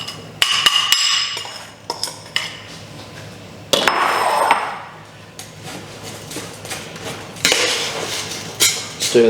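Eggplant (aubergine) chutney being stirred in a pot after apple cider vinegar and sugar go in, with a utensil clinking and scraping against the pot in irregular bursts, close and fairly clear, with no talk.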